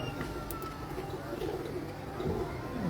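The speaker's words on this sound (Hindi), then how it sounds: "ये इनके चैम्पियन कबूतर हैं" Champion pigeons on a Lahore rooftop, soft low cooing under a faint background murmur, with a few brief higher chirps.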